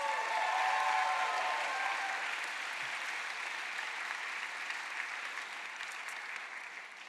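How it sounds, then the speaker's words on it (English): A conference audience gives another round of applause, a steady wash of many hands clapping that holds for about seven seconds and slowly fades a little toward the end, moderately distant, with no talk over it. "Can we please give them another round of applause?"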